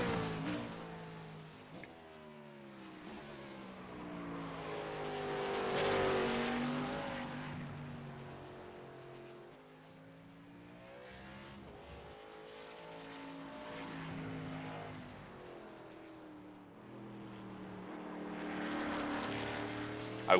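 A NASCAR stock car in the iRacing sim at Indianapolis drives laps, its engine drone rising and falling in pitch as it passes and accelerates, with a steady harmonic whine and faint talk underneath.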